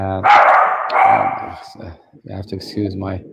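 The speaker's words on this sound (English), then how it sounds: "I'm sorry about my dog's going crazy over there." A pet dog barks excitedly nearby in a house, several sharp barks at the start overlapping with a person talking, followed by more talking.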